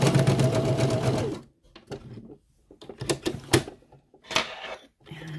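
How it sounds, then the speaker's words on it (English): A sewing machine zigzag stitches the ends of a skort's waistband elastic together, a close, loud mechanical whir for over a second, then stops, followed by scattered clicks and handling knocks. "we're going to zigzag this shut a few times"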